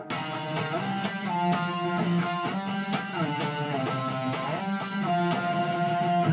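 A guitar riff plays alone, with clearly picked notes and rhythmic accents repeating steadily throughout.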